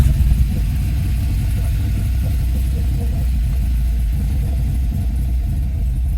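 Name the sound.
1974 De Tomaso Pantera L 351 Cleveland V8 engine idling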